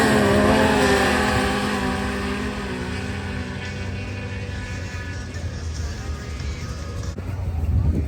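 Engine of a red, white and blue Polaris snowmobile at a lake grudge-racing day, a loud sustained drone that eases off midway and builds again toward the end, with crowd chatter mixed in.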